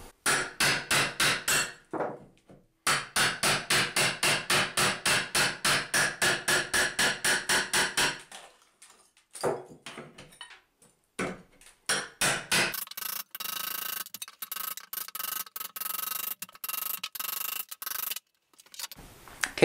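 Hammer blows knock bathtub and shower wall tiles loose in rapid, steady bursts of sharp close strikes, broken by pauses, followed by rougher scraping and crumbling as a tile row is broken out.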